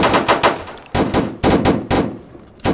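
Gunfire in the Roblox video game, four loud close bursts of rapid automatic shots in quick succession, each a tight rattle separated by brief gaps.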